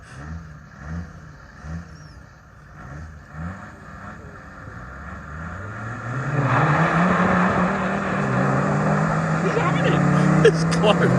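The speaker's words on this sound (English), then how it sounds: "The last race was between our Landy and a proper twisted performance Land Rover with" Two Land Rover Defenders, one a twisted performance build with the same engine, race side by side, with engines revving rhythmically at first and then surging into a loud, sustained roar that builds toward the end.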